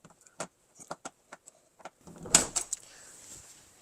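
A door latch being worked open with a thin piece of plastic, giving a run of sharp clicks and scrapes followed by a louder rattling clunk as the latch releases, close and fairly quiet.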